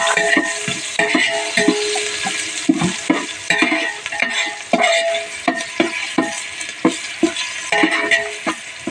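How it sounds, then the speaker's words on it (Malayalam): Ginger garlic paste fries in ghee in a pan, with busy, crackling sizzle and repeated scraping stirs of a spoon, steady and close, with no talk over it. "നമ്മൾ ഇഞ്ചി വെളുത്തുള്ളി പേസ്റ്റ് നമ്മൾ ഇതിലേക്ക് ചേർത്ത് കൊടുക്കുന്നുണ്ട്"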